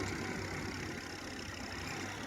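A Massey Ferguson 1035 tractor engine runs hard while sunk in soft mud in a field, a continuous, even low rumble with no voices.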